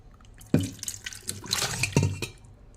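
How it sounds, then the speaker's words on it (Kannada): Wet splashes and slopping as meat chunks and water are tipped into a clay pot, with a couple of heavier plops and trickling in between. "ಈ ನೀರು ಸಮೇತ ನಾನು ಪಾತ್ರೆಗೆ ಹಾಕ್ತೇನೆ"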